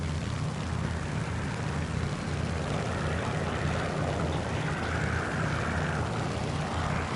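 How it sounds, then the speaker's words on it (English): Propeller aircraft engine drone from the War Thunder flight game, a steady loud mid-range roar holding through the whole stretch with a slight waver, alone without talk. "Airplane noises."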